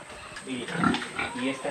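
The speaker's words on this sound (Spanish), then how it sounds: "Vamos hacia los cerdos, se los voy a mostrar, unos cerdos gigantes que hay acá." Large pigs on a farm in the countryside grunt at close range over a short stretch, with a person talking over them.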